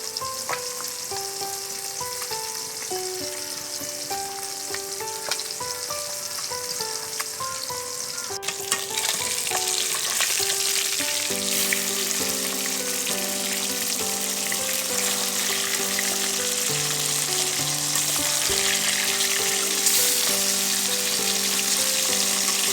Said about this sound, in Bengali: তো প্রায় আমার তেলটা গরম হয়ে গেছে, এখন মাছটা ছেড়ে দিচ্ছি